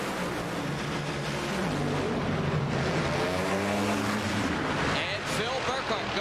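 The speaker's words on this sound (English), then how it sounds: "Our final funny car pair here in round number 1" Funny car drag race run at the 2003 NHRA O'Reilly Fall Nationals, a loud, sustained engine roar filling the whole stretch, pitch shifting as the cars pass, with a commentator talking over it.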